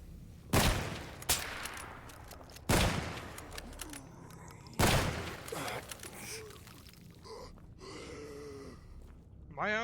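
Three loud shotgun blasts boom at regular intervals in the STALKER GAMMA video game, each followed by a fading tail, with grunting creature sounds and breathing in between.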